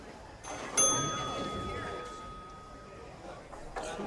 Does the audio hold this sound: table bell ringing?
yes